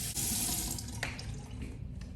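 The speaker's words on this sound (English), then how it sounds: "A hot, then cold water rinse on the face." Tap water runs steadily into a bathroom sink and splashes as the face is rinsed after a wet shave with a safety razor. The sound is close and continuous, with no talking.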